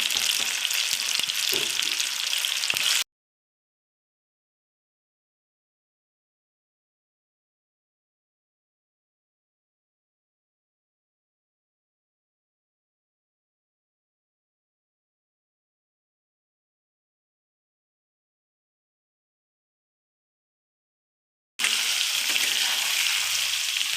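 Onion, tomato and a bay leaf fry in a pan for a dhaba-style matar paneer masala. A short burst of crackling sizzle opens the clip, then a long silence, then a second brief stretch of frying near the end.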